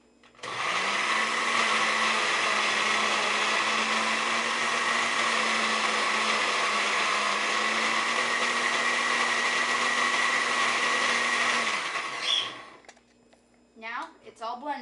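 A blender whirs steadily, loud and close, through a fruit smoothie for about twelve seconds, then stops abruptly, and a voice begins speaking afterward.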